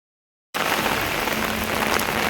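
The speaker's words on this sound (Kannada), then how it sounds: "ಮಳೆ ಅಂದರೆ ಸಿಕ್ಕಾಪಟ್ಟೆ ಮಳೆ ಬರ್ತಾ ಇದೆ" Heavy rain pours outdoors during a Mumbai flood, starting abruptly after a moment of silence and then holding a dense, loud, even hiss with no break.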